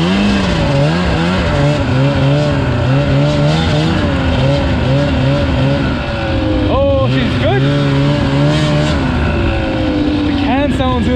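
A snowmobile engine revs continuously and loudly up close during a test after cleaning and repair, its deep drone rising and falling in pitch with quick throttle blips and no pauses.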